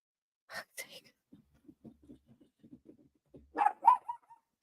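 A dog barks indoors in a couple of sharp bursts, then whines and huffs softly before barking again in a louder cluster, with a person talking nearby.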